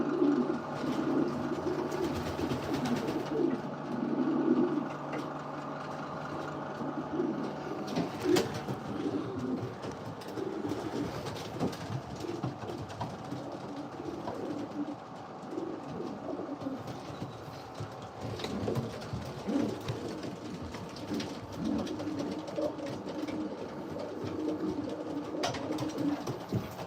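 Racing pigeons in a breeder loft coo steadily at close range, with soft overlapping calls layered over a constant ventilation fan hum and occasional faint shuffles.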